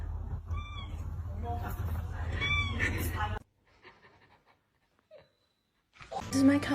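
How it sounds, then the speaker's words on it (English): A pet cat meows in short rising calls mixed with chatter, loud and close, followed by a near-silent pause and then a sudden burst of noise at the end. "This is my cat Mimi."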